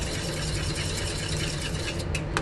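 A sauce mixture is whisked briskly, a close, continuous rhythmic scraping and rattling of the whisk against the bowl lasting a couple of seconds.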